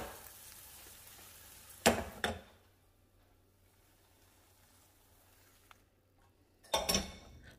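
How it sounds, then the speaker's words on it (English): Eggs fry in butter in a pan at medium heat, a soft steady sizzle running throughout, broken by two louder clattering bursts early and another near the end, with no talking. "I'm just going to grab a little bit of butter here and cook some eggs."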